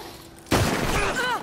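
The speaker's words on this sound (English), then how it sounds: "You shot me pretty good." A gunshot in Red Dead Redemption 2 cracks out suddenly and loudly after a quiet start, its echo ringing briefly before a voice begins speaking.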